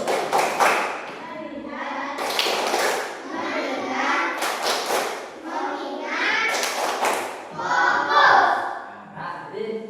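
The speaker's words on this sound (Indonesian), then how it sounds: "sebaiknya kita tepuk fokus" A primary-school class performs a rhythmic focus clap, bursts of group claps and children's voices chanting in short repeated phrases, fairly close, several rounds over the stretch.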